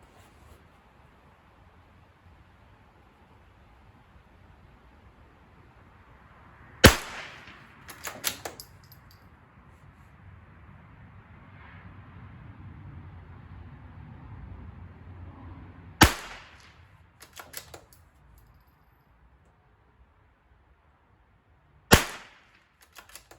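Three sharp, loud rimfire cracks from a Ruger American Rimfire .22lr rifle firing standard velocity ammunition at a 25-yard target, spaced several seconds apart, each with a brief rattling tail over quiet outdoor background.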